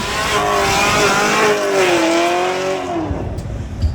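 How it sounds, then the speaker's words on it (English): A Chevrolet Camaro ZL1 does a burnout at a drag racing event. Its engine roars loud and close with a wavering, sustained high rev and tire noise, then tails off near the end. "Aplausos para este burnout de César Navarro"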